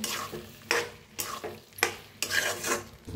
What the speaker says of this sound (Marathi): शेंगदाण्याचा कूट वापरला. भाजीला मिक्स करून घेऊया.